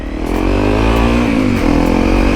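A Honda motorcycle engine revs steadily at close range while being ridden, a loud continuous mid-pitched drone with slight rises in pitch and no voices.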